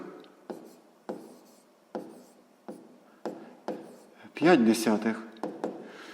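Pen writing on paper in a sixth-grade math lesson, close scratching strokes repeating roughly every half second, then a short burst of talking near the end as the teacher speaks.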